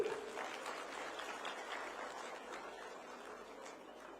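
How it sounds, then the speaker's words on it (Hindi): Sustained crowd applause at a public address in Dehradun, steady and dense, a large audience clapping continuously at moderate volume. "अब तो ताली बजाइए जोर से।"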